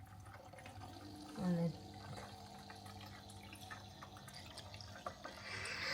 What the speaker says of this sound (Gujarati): તો એ મેં પાણી નાખ્યું